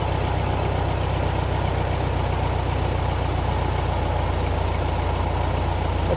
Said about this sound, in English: It's decreasing the idle down to about 850.